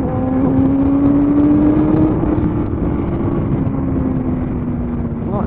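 A Kawasaki ZX-7R sportbike's engine drones loudly while riding, holding a steady tone that rises and then eases slightly, with rushing wind noise underneath; no speech.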